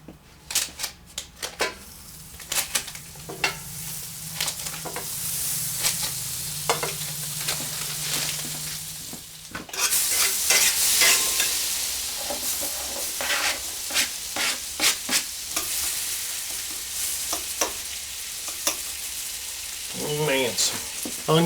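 A venison steak frying in a pan on a wood stove, steady sizzle beneath many sharp utensil scrapes and clicks, the fry growing louder partway through, with a little talk.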